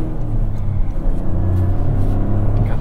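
A 2023 Toyota GR Corolla Core engine revs close by with a steady, throaty low drone that swells and eases slightly over about three seconds, with no talking.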